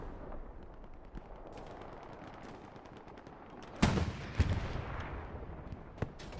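An anti-tank gun in Hell Let Loose fires at a Panzer IV: a few heavy, booming shots stand out over a constant background of distant battlefield gunfire.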